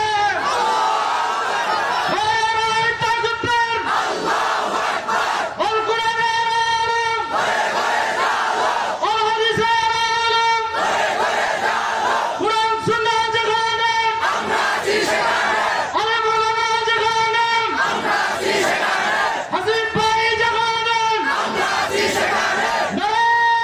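A large crowd chants the Allahu Akbar slogan at an outdoor religious gathering in Hamlabari, Debidwar, Comilla. Loud, rhythmic call-and-response bursts repeat steadily, each with many voices in unison.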